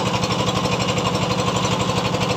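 A trawler boat engine chugs close by on the Meghna river, its rapid, even thumping beat loud and unbroken, with no voices over it.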